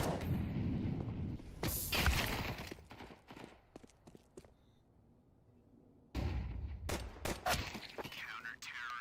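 Rapid bursts of gunfire in Counter-Strike 2 during a professional esports match crack out loud, in several quick volleys over a few seconds. A quieter lull follows before another dense run of shots. Caster commentary runs over the top.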